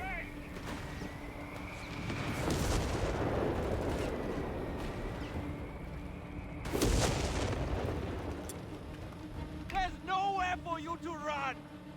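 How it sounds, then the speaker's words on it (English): Artillery barrage and grenade explosions in Company of Heroes 3 rumble as two heavy booming surges with lingering roar, mid-distance and loud, while a voice talks over part of it. "There's barrage."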